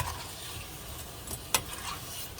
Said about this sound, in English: I'm gonna go ahead and add my frozen Phagwah. And I'll give this a good mix.